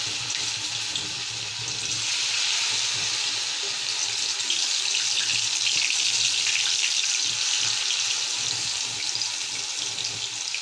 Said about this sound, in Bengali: লট্টা মাছের বড়াটা দিয়ে দিচ্ছি।